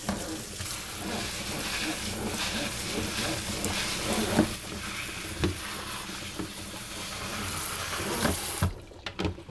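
Tap water runs steadily over washed kale in a kitchen sink, a continuous splashing rush with a few light knocks, ending abruptly as the flow stops.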